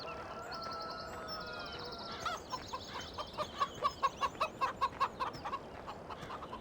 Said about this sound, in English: Cluck, cluck, cluck.